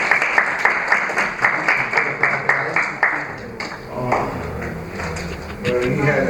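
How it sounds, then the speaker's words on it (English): An audience at a student presentation on teenage suicide in Korea claps in a steady burst of rhythmic applause that fades after a few seconds, giving way to murmuring and voices talking nearby. "So let's give a round of applause."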